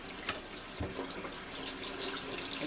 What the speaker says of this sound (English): And I use my sprayer to spray it down with hot water.